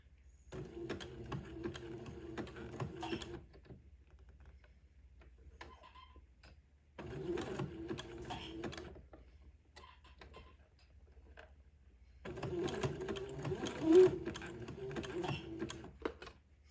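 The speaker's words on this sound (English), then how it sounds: "once you have the lace butted up and you have begun to sew the entredot or zigzag them together" A sewing machine zigzag-stitches two lengths of lace together at the entredeux for a twin daygown, running in three separate bursts of rapid mechanical whirring and ticking, each a few seconds long, with quiet pauses between.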